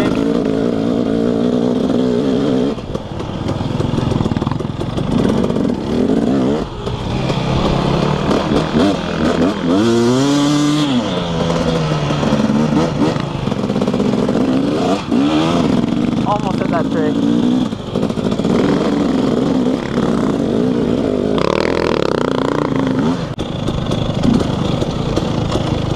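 A dirt bike engine revs and roars steadily during a trail hill climb, loud and close throughout, with its pitch rising and falling while someone talks over it.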